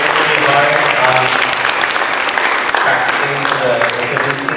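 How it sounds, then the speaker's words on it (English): A preschool Christmas program audience gives the children a loud, sustained round of applause, dense and continuous clapping close by with faint voices and cheers blended underneath. "Can we give the kids one more round of applause, please?"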